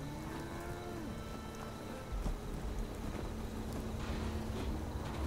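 Brahmin cattle in the Fallout 76 video game moo in low, drawn-out calls over a steady ambient background, with a louder rumble joining partway through.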